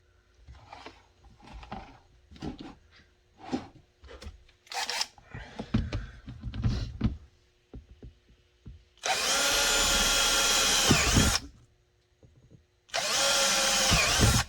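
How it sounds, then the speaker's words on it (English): A few light clicks and knocks, then a power drill whirs loudly in two sustained bursts with a short pause between them, drilling holes in a Glock 30 appendix holster rig. "We're going to drill these three and then these two."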